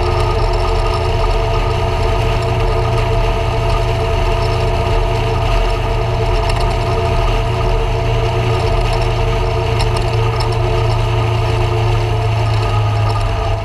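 Motorcycle engines rumble and idle steadily at a bikers' rally ride-out in Tvrdonice, a dense, continuous mid-pitched drone with no talk over it.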